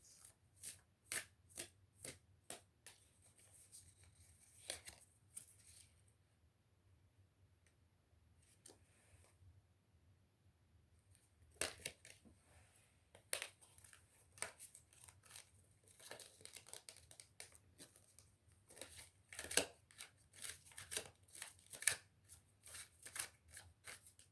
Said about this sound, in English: Try to shuffle these a little different.